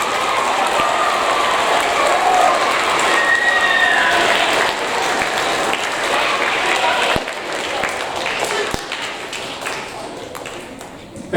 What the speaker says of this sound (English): And one more round of applause, please, for everyone on the stage.